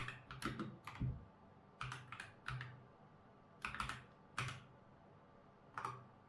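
Short bursts of typing on a computer keyboard as a repair command is entered, with clustered keystroke runs separated by brief pauses, close and clear with no talk.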